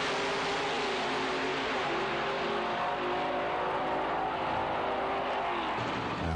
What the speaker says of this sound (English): Camaro with the blower.